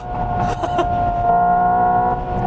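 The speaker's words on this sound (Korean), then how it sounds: "엑셀 반응에 따라서 이렇게 사운드를 거의 완벽하게 구현해놨습니다" A Hyundai Ioniq 5 N electric car plays its simulated engine note in response to the accelerator, a steady droning tone with a sustained pitch inside the cabin, close and moderately loud.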